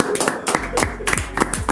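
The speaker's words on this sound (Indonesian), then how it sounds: "Tepuk tangan dulu." Several sharp hand claps ring out close by in an irregular sequence, ending a relaxed conversation about landscape architecture, with brief speech sounds between the claps.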